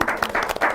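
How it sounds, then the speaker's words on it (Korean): A brief burst of studio audience clapping welcomes guests at a public broadcast recording, loud and dense but lasting under a second. "큰 박수로 맞아주시면 좋을 것 같습니다."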